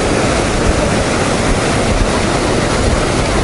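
Stormy Black Sea surf on a beach at the Bugaz spit, a loud, continuous roar of breaking waves mixed with wind buffeting the microphone, with no distinct individual breakers.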